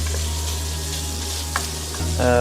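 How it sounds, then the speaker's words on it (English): Smoked bacon browns in olive oil and butter in a pot, giving a steady close sizzle with a light stir and a brief clink near the end, no talk. "In this pot here, with some olive oil and some butter, we have some smoked bacon that we're just browning off"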